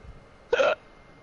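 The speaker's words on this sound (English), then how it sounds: "Sometimes the burp turns into a puke." A single short, abrupt burp lasting about a quarter second, close and fairly loud against a quiet background.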